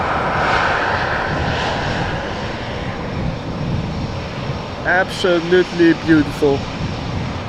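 A Cathay Pacific Airbus A350-1000 bound for Hong Kong departs Amsterdam Schiphol, its jet roar broad and steady and fading a little, before a voice speaks briefly near the end.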